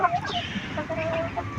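Hens on a house rooftop cluck in short, repeated calls, close and fairly loud, with a steady background murmur underneath.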